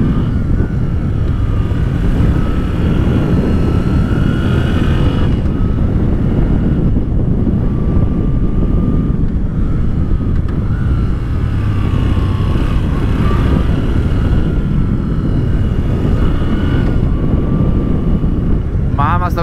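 A Moto Guzzi V7 III motorcycle ridden over the Passo della Futa, its engine rumbling continuously beneath heavy wind buffeting, with a rider speaking now and then over the ride.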